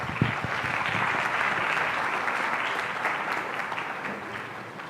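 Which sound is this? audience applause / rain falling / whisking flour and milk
audience applause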